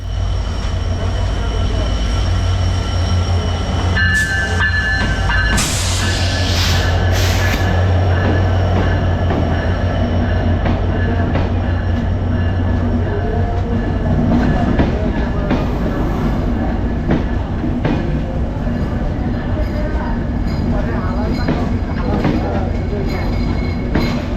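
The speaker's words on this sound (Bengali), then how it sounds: "আমাদের ট্রেনটি সাপাই নবাবগঞ্জ থেকে ছেড়ে এসে রাজশাহী রেলওয়ে স্টেশনে প্রবেশ করছে" Banalata Express train rolling into Rajshahi railway station, a loud continuous rumble of wagons and wheels with a burst of squealing and rattling near the start, heard from on board.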